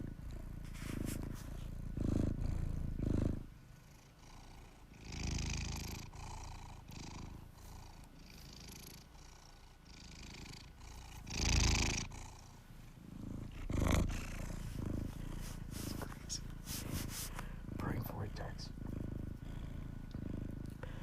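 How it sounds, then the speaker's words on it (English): A cat purrs continuously up close, a low rumbling rhythm with a few louder swells and soft rustling. "We're in a purring vortex."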